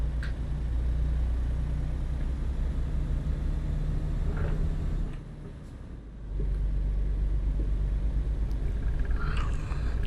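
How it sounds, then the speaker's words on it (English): A truck engine in American Truck Simulator heard from the bumper view: a steady, deep idling rumble that briefly drops and softens midway before returning to its full drone, with no talk over it. "I like the bumper view because I just like the sound of the engines"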